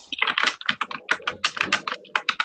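Rapid computer keyboard typing on an open microphone during a remote municipal land use committee meeting, a dense run of close, clicky keystrokes in uneven bursts with no voices over it.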